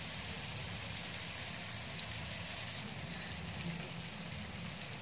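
Parmal frying in oil on a tawa, a steady soft sizzle with fine crackling throughout, even and fairly faint, with no voices.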